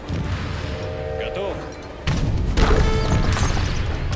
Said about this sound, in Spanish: Te ha pillado el cañonazo.